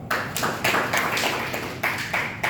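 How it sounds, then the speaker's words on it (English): Brief round of audience clapping at a presentation on performance and productivity, a close, dense patter of hands lasting a couple of seconds. "Please, let's clap for her."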